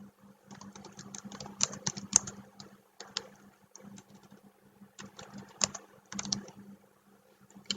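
Keys clatter on a computer keyboard as text is entered into a slide in PowerPoint, coming in quick bursts with brief pauses, close and moderately loud, with a steady low hum underneath.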